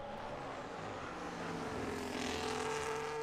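Race cars passing on the Austria circuit in a sim racing league qualifying session, a loud continuous engine roar with rising pitch sweeps as cars go by, building slightly louder toward the end.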